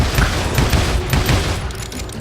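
Rapid, dense gunfire in the Western shooter game Call of Juarez Gunslinger, a loud continuous volley of booming shots with no pauses.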